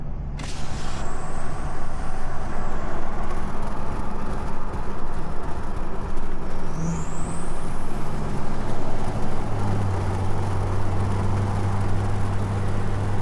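A diesel pickup truck fitted with a 5-inch exhaust cruises along a road, heard from inside the cab as a steady, loud engine drone and road roar with no talking.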